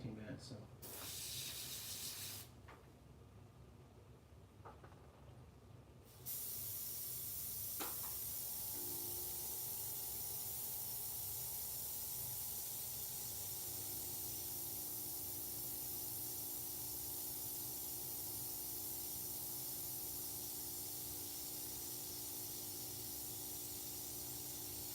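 Clogged white airbrush spraying, a continuous airy hiss that switches on partway through and holds steady, with a faint hum beneath.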